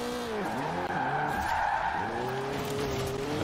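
A Mazda Miata with a 6-speed drifts in Forza Horizon 4, tires screeching in loud, bending skids over a constant engine note, several swooping squeals back to back.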